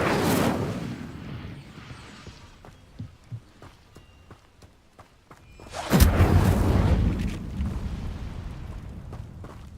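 An Incendio fire spell cast in Hogwarts Legacy, a sudden loud whooshing roar that swells and burns on for several seconds, preceded by quieter footsteps and soft game sounds.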